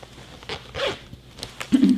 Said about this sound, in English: And then I also put a zipper in with a pocket.